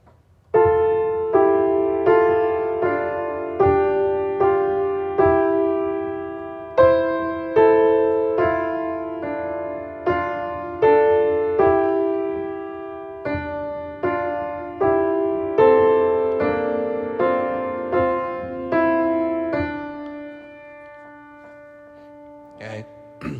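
Alto and soprano voices of a choral piece sing together in sustained two-part harmony, with clear phrases and steady breaths, loud and close, ending in a held chord and a short pause.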